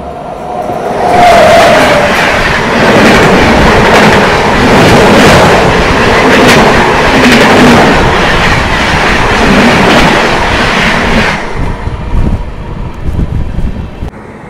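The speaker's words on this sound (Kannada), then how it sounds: "Hussain Sagar Express crossing CSMT Mumbai to Hyderabad Deccan Nampalli" The Hussain Sagar Express, running from CSMT Mumbai to Hyderabad Deccan Nampalli, passes close by as a loud sustained roar of rushing wagons and wind that fades out near the end.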